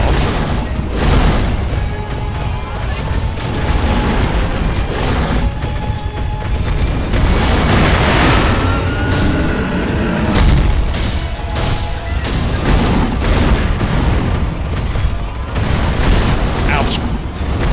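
Firecrackers burst in the video game Sekiro amid a dense, continuous roar of loud booms and crashes that fills the whole stretch without letting up.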